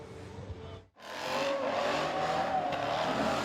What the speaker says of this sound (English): Another night of spinning tires, cars shooting flames from their tailpipes